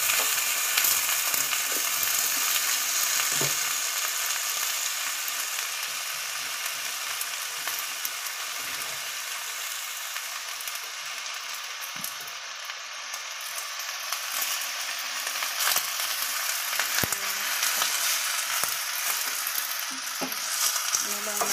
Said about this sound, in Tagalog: Mix-mix lang natin ang kanyang mag-brown yung meat